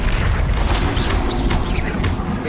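A Bombarda blast spell in Hogwarts Legacy makes a loud, sustained, rumbling explosion that fills the whole moment, with faint whistling, swooping magical tones over the dense roar.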